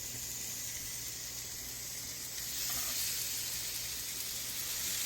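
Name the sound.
steak searing in cast iron skillet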